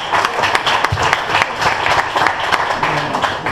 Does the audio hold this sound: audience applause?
yes